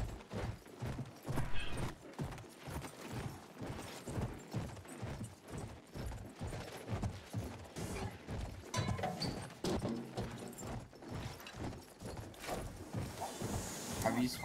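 Rhythmic clip-clop of horse hooves in the video game Battlefield 1 pounding steadily at a gallop, fairly close, with a mechanical clatter and a voice talking over it.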